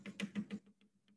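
Someone imitates rain for a water-cycle science lesson: four quick, loud patters in a row, then a few fainter scattered taps, close and dry with no talk over them.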